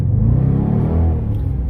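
A 2018 Dodge Charger R/T with the 5.7L Hemi V8 roars close by as it accelerates hard and slides sideways, a loud, steady deep rumble with a rising engine note.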